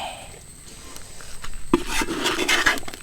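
Kerala-style kappa biriyani of tapioca and beef is stirred and mixed in a pot: soft scraping and rubbing, quiet at first, then a thicker, busier churn of the mass, close by with no speech.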